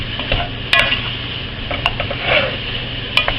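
Onions being stirred in a pot for a broccoli cheese casserole, with close scraping of a utensil against the pot, a few sharp metallic taps and a light sizzle underneath.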